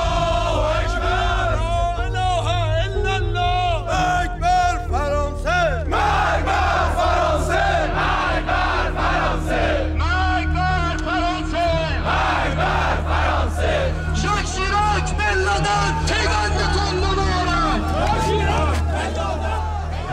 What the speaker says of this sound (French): Une centaine de miliciens du régime se sont donné rendez-vous pour protester contre la position de la France